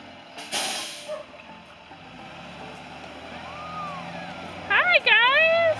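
A school bus pulls up on a rural homestead road, with a sharp hiss of air brakes near the start, a low engine idle after it, and a burst of squealing, chirping brake or door sounds near the end.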